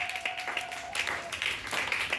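A church congregation claps for Jesus in a brief, dense burst of applause, with a voice calling out over the clapping.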